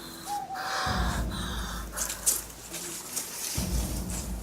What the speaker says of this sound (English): the birds in the background are really great to put a filter up